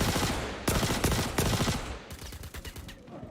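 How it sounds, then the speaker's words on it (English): Loud, rapid bursts of video game gunfire crack close by, some single shots and some sustained automatic volleys, with faint scattered shots following. "I'm hearing constant gunfire"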